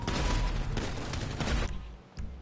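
Gunfire in GTA, loud and close, comes in dense rapid volleys for about a second and a half, then thins to a few sparser, fainter shots.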